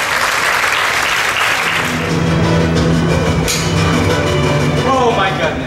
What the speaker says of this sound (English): A big round of applause for Kathleen.